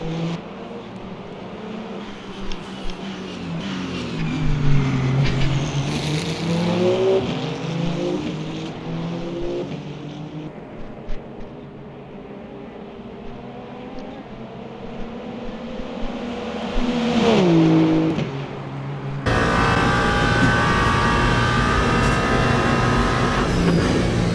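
Ferrari race car engine in the Le Mans Ultimate racing game, a loud continuous roar rising and falling through gear changes and revs, with a sharp shift to a higher, harsher pitch near the end.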